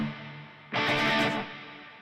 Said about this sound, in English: with the foot switch C, I can change the length of my reverb